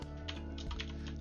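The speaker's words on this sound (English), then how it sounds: "We're going to type" Rapid clicking of computer keyboard keys while Java code is typed, a quick irregular run of taps, faint and close, with no talking.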